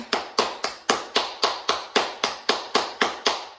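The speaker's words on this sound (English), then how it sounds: "Clap." A steady run of thirteen sharp hand claps at an even, brisk rhythm, close and crisp, with no voices, during a back-pain mobility exercise session.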